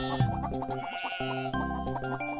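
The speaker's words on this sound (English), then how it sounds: "And then we'll put a sheep right there." Sheep bleat in the Simmiland video game, with short repeated cries over a layered musical backdrop and light chiming tones.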